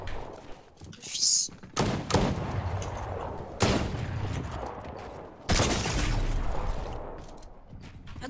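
Gunfire in a video game comes in loud bursts and heavy shots, several in a row, while a player talks over them.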